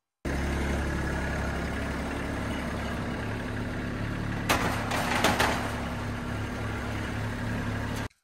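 A tractor engine runs steadily while lifting an IBC tote filled with firewood, a constant mid-pitched idle-like drone with a brief clatter midway.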